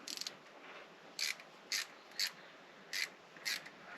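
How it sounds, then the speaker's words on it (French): A ratchet tightens bolts on the injection pump of a Mercedes W210 E290 diesel with the OM602.982 engine, giving five crisp, quiet clicks at uneven intervals in a still workshop. "Je vais resserrer, ne serait-ce qu'un petit peu, les boulons ici."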